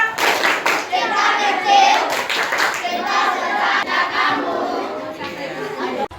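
A group of children does a rhythmic clapping chant, counting out patterned hand claps together in a classroom, loud and close, with young voices calling along.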